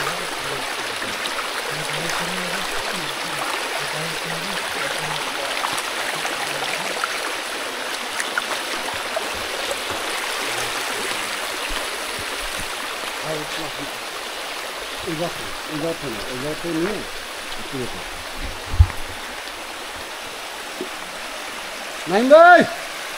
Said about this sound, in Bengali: এই যে দেখুন এই ঝিরিপথে